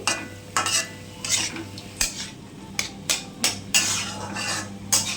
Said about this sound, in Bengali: হলুদটা দিয়ে ভালো করে নাড়াচাড়া করব